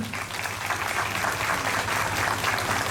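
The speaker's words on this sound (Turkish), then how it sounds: "Buradan kuvvetli bir alkış alabilir miyiz Sayın Gazimize?" A crowd at a commemoration ceremony for 15 July martyrs in Şile breaks into loud, sustained applause, a dense continuous roar of clapping heard close and full throughout.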